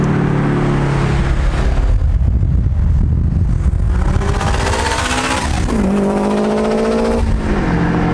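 A Subaru WRX with an Invidia N1 exhaust and screamer pipe revs hard, rising through a roaring climb, dropping off, then surging again with sharp stepped pitch jumps, loud and close with no talk.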